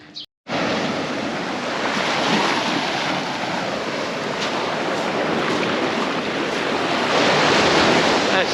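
Waves wash onto the beach at Lamai on Koh Samui, a steady, full surf roar with a breath of wind that holds unbroken and swells slightly louder toward the end, with no voices over it.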